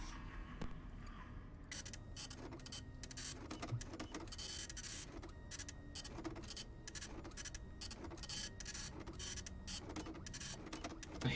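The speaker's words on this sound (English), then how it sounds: "the loudest printer of all time" An in-game printer in FNAF Pizzeria Simulator runs continuously, a loud mechanical whirring and chattering with rapid rhythmic clicks and scraping pulses, heard on its own.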